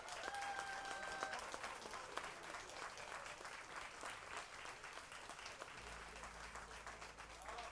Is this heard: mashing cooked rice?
no